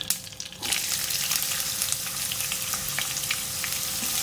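A small onion, coarsely chopped, sizzles in hot oil, beginning abruptly after a brief quiet moment, then holding a steady, dense crackle with scattered pops close by, no voices.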